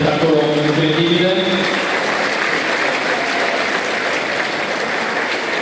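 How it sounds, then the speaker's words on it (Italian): A crowd gives a big, dense round of applause for under-17 volleyball players after a Pallavolo Padova vs Volley Treviso match; loud continuous clapping fills the space while a voice or tone rings briefly at the start. "Io direi ragazzi da parte di tutti un mega applauso perché hanno dato uno spettacolo incredibile."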